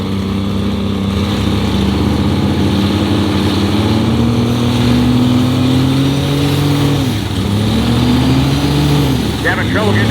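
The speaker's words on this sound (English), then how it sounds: "Having trouble getting the turbos to light off here." A 1200 hp compound-turbo Cummins diesel in a '45 Chevy rat rod drag truck rumbles loudly and steadily, with the turbos struggling to light off. The pitch dips and rises once partway through, over crowd noise and talk.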